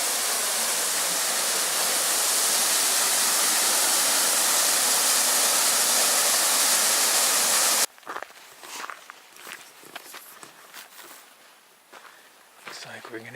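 Lower falls on Cataract Creek along the Colorado Trail, a loud, steady rushing roar of water that cuts off abruptly, followed by quieter ambient sounds and scattered footsteps.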